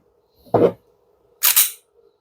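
Two sharp mechanical clicks from a competition handgun fitted with a stock 5-pound connector and a 4.4–4.5 pound trigger, the first lower and thicker, the second brighter, spaced about a second apart, close and clear with no talk.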